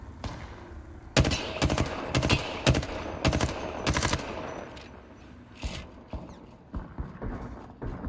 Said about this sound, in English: People shooting over there